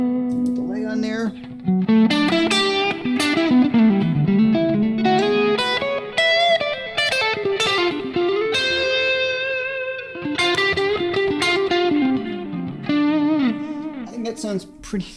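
Guitar played through a UA Lion amp with a Delverb delay and reverb pedal, a distorted melodic line with sustained notes and echoing tails ringing out loud and clear, with short pauses between phrases.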